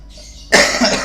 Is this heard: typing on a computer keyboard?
no